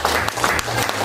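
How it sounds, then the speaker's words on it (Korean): A brief burst of dense audience applause fills a large auditorium at an anniversary award ceremony, with continuous clapping and no speech. "큰 박수 부탁드리겠습니다"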